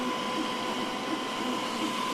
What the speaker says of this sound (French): Ce qui vient de se mettre en route, c'est le ventilateur de plaque, celui qui souffle ici là